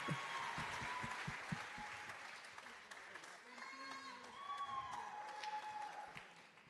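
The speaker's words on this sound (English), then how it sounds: "let's give a round of applause for Nuran Abu Taleb." An audience at a World Food Day closing ceremony claps steadily throughout, a soft, distant wash of applause with faint voices mixed in.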